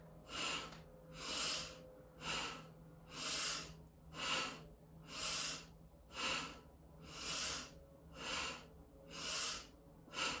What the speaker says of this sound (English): So it's a long, like a deep inhale, and then a forceful exhale while rocking forward.